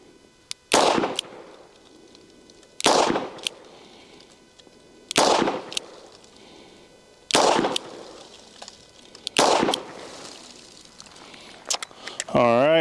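Five loud, sharp revolver shots from a Smith & Wesson 360 PD .357 Magnum fired at a target, spaced roughly two seconds apart, each a hard crack with a quick decay, and a faint voice briefly at the end.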